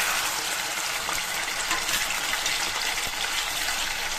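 A whooshing, gushing sizzle as onion-tomato puree hits hot oil in a kadai for an egg curry, a broad steady hiss that holds evenly for a few seconds.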